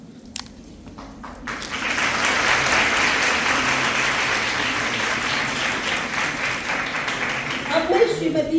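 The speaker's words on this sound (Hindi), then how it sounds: "बहुत बहुत तालियां।" An audience at a Beti Bachao Beti Padhao programme in Kathua breaks into sustained applause, swelling after a brief voice and holding steady, loud and close, with clapping tapering near the end.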